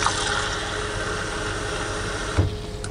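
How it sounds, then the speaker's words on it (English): Two cups of water pour into a slow cooker over cooked beef and onions, a steady close splashing rush that stops abruptly near the end, with no talk. "Two cups of water."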